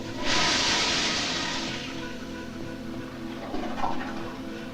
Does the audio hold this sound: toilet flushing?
yes